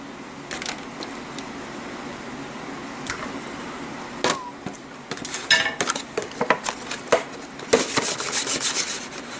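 Hamburger meat mixed with tomato sauce being spread across the bottom of a baking dish with a spoon, giving scraping and clinking of metal on the dish that grows busier and louder toward the end, with no talk.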